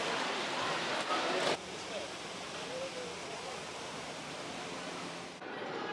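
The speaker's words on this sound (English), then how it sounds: "this spring actually flows all the way out over a waterfall and down into the pool" Spring water spilling over a waterfall into a pool at the Wilderness Lodge: a steady, even rush of broadband water noise that fills the whole clip, with faint voices in the background.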